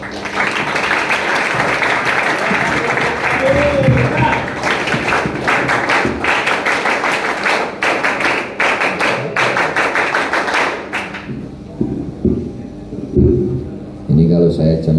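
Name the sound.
Pramuka scout rhythmic group clapping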